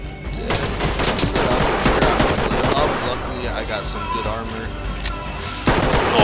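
Five-seven pistol loaded with green-tip rounds fires in the tactical shooter Ready or Not, a loud, dense stream of rapid shots filling the whole stretch with scarcely a pause.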